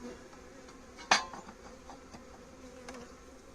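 Honeybees buzzing during collection of a swarm into a hive in August, a low steady hum close by, with one sharp clack of equipment early and no talking.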